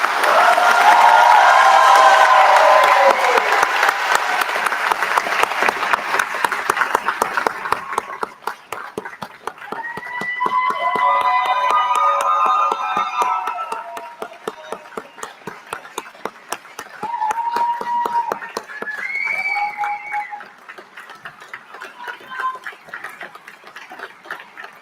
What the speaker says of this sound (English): Will the audience please join me in applauding the achievements of these graduates?